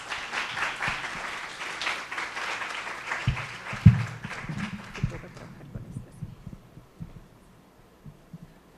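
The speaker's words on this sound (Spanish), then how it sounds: "para quien pido un fuerte aplauso" An audience welcomes Dr. Graciela Cordero with a burst of applause before her talk on teacher evaluation in Mexico. The sound is dense and sustained for several seconds, then thins out and fades.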